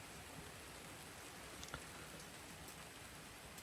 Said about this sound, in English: the weather, which is raining at the moment